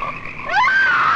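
A frog croaks loudly and close in a 1972 horror film trailer, a single rising, buzzy call lasting about a second with a lower hum beneath it, heard alone without narration.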